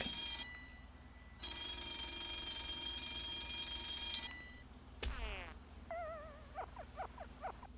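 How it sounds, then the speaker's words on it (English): A fire alarm item from the Fallout 76 atom shop gives two long, loud electronic ringing bursts, then a sweeping chirp and a run of short, rapid warbling beeps, heard on its own. "I don't think that fire alarms are meant to sound this way."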